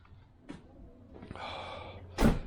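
A person sniffing and breathing sharply near the microphone, with one short intake early and a longer nasal draw, then a loud close snort or sniff at the end.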